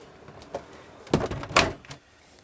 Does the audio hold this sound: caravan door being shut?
yes